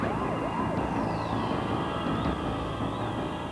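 Ambulance siren wailing with rising and falling pitch sweeps over a steady, loud background rumble of traffic and crowd noise, no clear speech.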